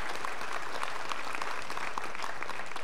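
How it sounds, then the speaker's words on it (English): Steady applause from an indoor audience at a school spring concert, thanking a helper who set up student artwork in the foyer; dense, even clapping that fills the whole stretch without voices on top. "please give him a round of applause for thanks"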